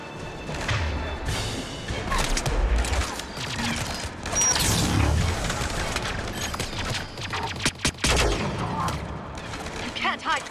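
Rapid bursts of gunfire in the video game Mass Effect 3 Special Edition, loud volleys and single shots mixed with impacts and crashes, with voices speaking between and over them.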